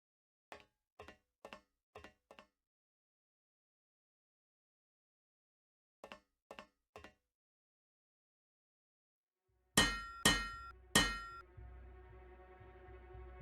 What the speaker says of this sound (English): That sounds exactly like an unbroken pipe should sound.